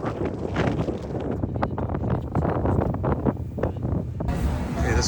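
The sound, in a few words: wind on the windy side coming into Skye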